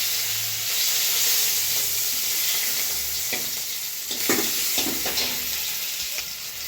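Onion paste fries in hot oil with a dry chilli and a bay leaf for a fish curry, giving a loud, steady sizzle with occasional stirring scrapes close by.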